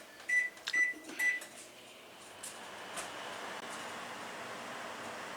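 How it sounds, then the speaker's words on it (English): Microwave oven heating two ounces of cream: three quick high beeps as it starts, then a faint steady hum from the running oven with a soft click. "Take my 2 ounces of cream and I'm going to put it in the microwave to get it scalding"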